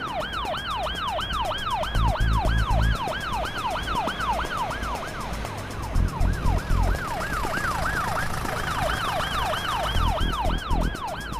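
An ambulance siren wails in rapid rising-and-falling sweeps, loud and close, over rumbling traffic with occasional low thumps.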